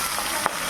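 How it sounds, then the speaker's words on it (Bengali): Hilsa fish sizzles in hot oil in a pan, a steady frying crackle broken by one brief sharp splash-like burst as the fish is turned over. "আরেক পাশ ভাজা হওয়ার জন্য মাছটা উল্টিয়ে দিচ্ছি"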